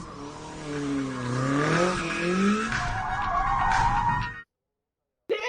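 A car's tires squeal in a long, loud skid as it brakes to a stop, a played-back sound effect that runs alone for several seconds before cutting to silence.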